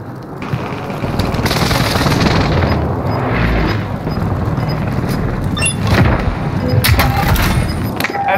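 Airstrike explosions in the Warzone battle royale game: loud, sustained rumbling booms with crackling gunfire-like bursts rolling on continuously throughout, with heavier blasts partway through and near the end.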